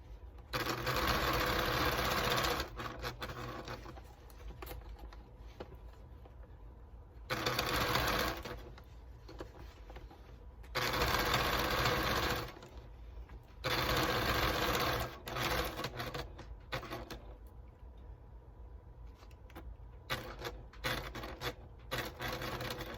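A sewing machine top stitching a pair of pants runs in long steady whirring bursts with short pauses between, loud and close, with a faint motor hum in the gaps.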